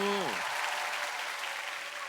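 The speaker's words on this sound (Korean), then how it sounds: "박수 주세요, 여러분." An audience breaks into applause following a brief sung note; the clapping stays steady and moderately loud throughout.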